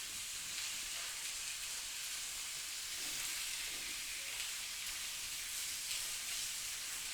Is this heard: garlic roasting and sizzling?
yes